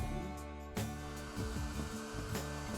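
A hairdryer blows steady, close airflow onto a decal on a curved plastic scale model, a continuous whirring hum with one brief bump in intensity partway through.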